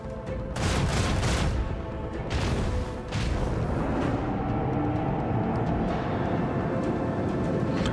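Cannon fire in Warhammer 40k: Rogue Trader, a dense, continuous barrage of booming shots and crashes, loud throughout with several heavier blasts early on and no clear talking.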